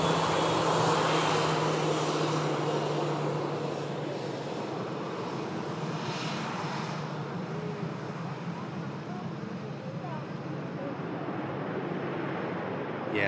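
An Emirates airliner flying past, a broad steady jet roar holding loud then slowly easing off, heard at a distance outdoors.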